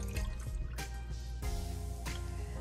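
Water pours and drips from a can into a pot for a stovetop beef pot roast, a close, quiet splashing with a few distinct pours in a row and no talking.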